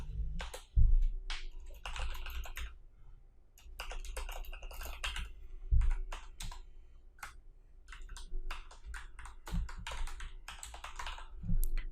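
Rapid, irregular clicks of a computer keyboard fill the passage as HTML code is typed, close and moderately loud with short pauses between bursts of keystrokes and no talking.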